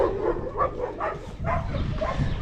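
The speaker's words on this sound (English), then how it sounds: "These stray dogs here are so fucking annoying. All they do is bark and fight." Stray dogs in a village in Chile's Patagonia bark and yip repeatedly in irregular bursts, at moderate distance, with a whimpering edge and no talk.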